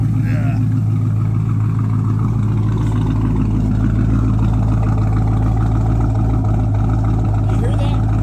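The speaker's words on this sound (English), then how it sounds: "So there's the exhaust." Car exhaust note idling and rumbling close by, a deep steady drone with a constant low tone throughout, with a voice speaking faintly over it.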